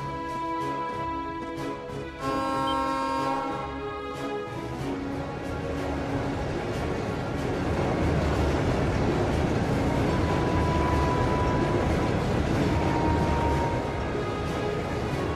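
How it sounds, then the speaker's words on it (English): A freight train from Albarea carrying heavily armored tanks rumbles past in Trails of Cold Steel, a long continuous rolling drone that swells midway and stays loud throughout, with game music tones layered on top and no talk. "It's a freight train from Albarea?"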